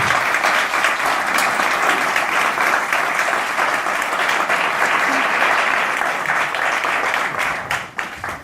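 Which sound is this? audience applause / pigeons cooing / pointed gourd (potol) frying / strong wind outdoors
audience applause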